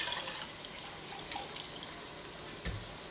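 Wine is swished around inside emptied tomato cans while making tomato rice soup, giving a soft, continuous liquid slosh and trickle, fairly faint and close, with a brief thud near the end.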